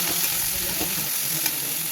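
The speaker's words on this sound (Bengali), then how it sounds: "বেগুনটা ভেজে নিয়ে ভালো করে ভাজতে হবে" Eggplant fries in a pan with a steady, close hiss and sizzle, faint stirring scrapes mixed in, and no talking.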